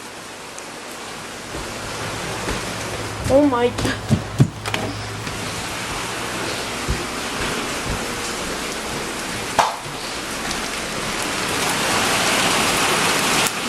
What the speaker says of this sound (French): Damn, il mouille fort. Vous l'entendez là?